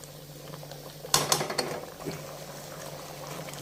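Plum chutney with sugar and rose syrup bubbles and foams in a pan, a faint simmering fizz with a brief burst of clattering bubbles partway through.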